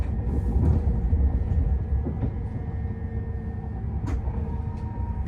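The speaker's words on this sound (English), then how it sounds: "This is a Transpennine Express service to Manchester Airport." A TransPennine Express train bound for Manchester Airport gives a steady low rumble of rolling wheels and motor throughout, with occasional faint clicks and tones over the continuous noise.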